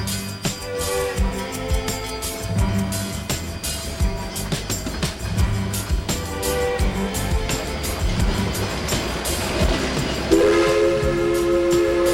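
A Durango & Silverton narrow gauge steam train rumbles and clanks as it begins moving, with steady mechanical chugging and a whistle-like tone near the end, close and continuous.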